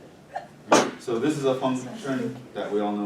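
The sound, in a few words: sneeze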